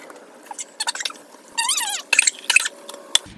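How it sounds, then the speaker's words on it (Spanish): Evaporated milk and a canful of water are poured into a bowl while making a Raffaello Rocher limber, giving close, intermittent splashes, drips and liquid gurgles in short bursts with no talking. "vamos a añadir la leche evaporada, y esta misma lata la vamos a llenar de agua y se la vamos a añadir"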